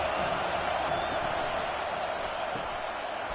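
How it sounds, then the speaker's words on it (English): Football stadium crowd roaring as a steady, dense wall of noise throughout, loud and distant-sounding, with no distinct cheers standing out. "This crowd bringing the energy and noise early."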